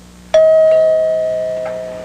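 A single doorbell chime rings out loudly once and decays slowly as a sustained tone, heard alone in a quiet domestic interior at night.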